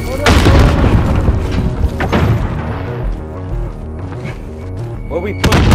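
A grenade goes off in the Call of Duty: Modern Warfare shooter as a loud, heavy boom near the start. The rumble and scattered impacts continue under busy in-game voices and noise.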